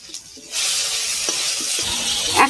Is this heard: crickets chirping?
no